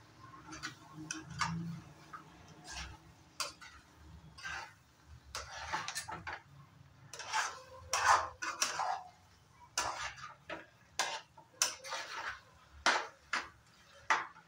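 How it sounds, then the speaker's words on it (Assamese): Plums being stirred together with crushed pickle spices in a pan, a run of irregular metallic scrapes and clinks from a spoon against the pan, close and fairly quiet, with no talk. "এতিয়া বগৰীখিনিৰ লগত খুব ভালকৈ মিলাই ল'ম।"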